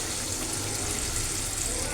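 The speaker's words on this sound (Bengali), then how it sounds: "পরিমাণ মতো পানি দিয়ে দেব।" Water pours into a hot cooking pot of chicken with onions and chilies, a dense, steady hissing rush that fills the whole moment, close and loud.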